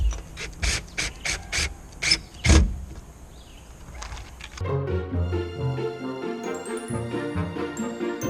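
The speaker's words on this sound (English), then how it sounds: "start tightening this cover back up" Tools tightening the motor cover back onto an RV air conditioner, with a quick series of close ratchet-like clicks and knocks, one heavier thump, then a drop to a quieter steady hum with faint tonal bits.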